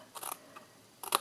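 Paper being cut with scissors while making a gift box, two short crisp snipping bursts close by with a quiet gap between them.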